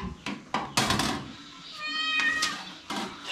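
A cat meows a few times nearby in a rural kitchen while food is being prepared, its tonal calls mixed with sharp clatters and knocks from handling dishes and utensils.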